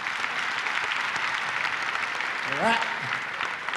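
Live audience applause in a comedy show venue during a televised broadcast, steady dense clapping throughout with a voice briefly calling out over it.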